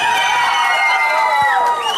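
Studio audience at a karaoke TV show cheering and shouting for contestant Asel, a dense steady crowd roar with whoops and a bright sustained tone over it.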